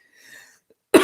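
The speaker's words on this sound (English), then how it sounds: "I am going to cough again for a moment" A single sharp cough bursts out close to the microphone at the very end, after a near-silent moment with only a faint thin tone.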